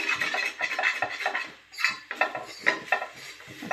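A spoon works thick curd and chili pickle-style raita in a metal kadhai, producing repeated close scraping and clinking strokes in an uneven rhythm, with brief pauses between strokes.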